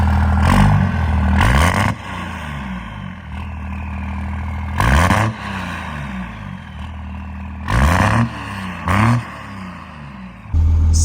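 Second-generation truck engine idling with an uneven, lumpy beat, broken by several short loud revs and blips that rise and drop back, its rough rhythm hinting at a misfire.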